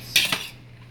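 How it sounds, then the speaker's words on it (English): A spoon stirs a pot of liquid to dissolve a stock cube, giving a short burst of metallic scraping and clinking that fades to quiet after half a second. "we're just gonna stir this until that little cube melts"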